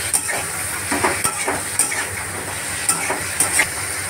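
A spatula stirs ridge gourd seasoned with salt, turmeric and chili powder in a hot pan, with a steady sizzle and scraping strokes that come and go at an uneven rhythm. The cooking is close and moderately loud, and no one speaks.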